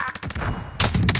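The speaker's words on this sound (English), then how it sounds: "Sniped him, he's down." A sniper rifle shot in a multiplayer shooter game, a loud close crack followed by a second burst of gunfire moments later, no talking.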